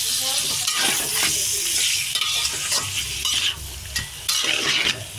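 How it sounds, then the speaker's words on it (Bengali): Chicken pieces sizzle loudly with onions in a hot pan while being stirred, a steady crackling fry punctuated by scraping strokes of the spatula and occasional clinks against the pot. "মুরগিটা ঢেলে দিয়েছি, পেঁয়াজের সাথে ভাজবো। মুরগিটাও ভাজা ভাজা করবো।"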